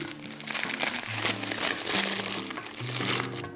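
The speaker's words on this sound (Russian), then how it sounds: "Кладем наш пакетик в баночку." A packet of dry cookie mix holding flour, salt, sugar and soda, tied with a bow, crinkles and rustles as it is lowered into a jar, with music playing steadily underneath.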